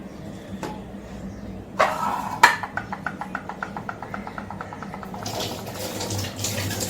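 Dried fish is washed under running water, with splashing and a faucet stream, followed by a quick series of soft rhythmic taps and then a steady flow of water, all fairly quiet and close.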